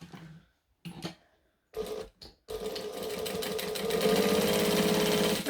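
Short bursts of a sewing machine stitching fabric start and stop, then it settles into a continuous fast mechanical whir that grows louder and runs steadily to the end, close by with no talking.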